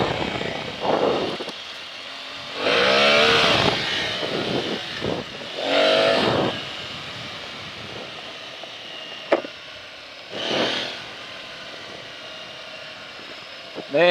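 An Aprilia Tuareg 660 motorcycle ridden with traction control in mode 1, its engine rising and falling through several throttle bursts of revving, with a person talking between them.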